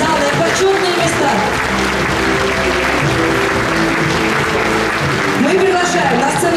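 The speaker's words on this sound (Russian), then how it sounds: "Давайте все проводим аплодисменты" An audience at a Moscow veterans' meeting marking 30 years since the Soviet withdrawal from Afghanistan applauds steadily, a dense wash of clapping that carries on while a voice speaks over it.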